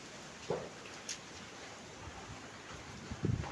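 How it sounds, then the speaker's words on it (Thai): Strong summer storm wind gusts across an open yard behind a house with trees. A steady broadband roar holds throughout, with brief gusty bursts and rustling near the start and end. "ดูครับลมเข้าหลังบ้านครับ"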